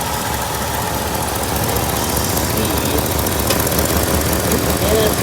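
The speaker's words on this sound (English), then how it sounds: "I noticed we have an exhaust leak over here on the driver's side." A 1968 Ford LTD V8 idles steadily with an exhaust leak at a cracked driver's-side manifold gasket, giving a close, even rumble with a faint ticking texture throughout.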